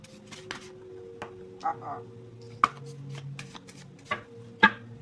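Tarot cards handled and shuffled in short, crisp bursts with sharp taps and clicks, close up, against a faint background hum.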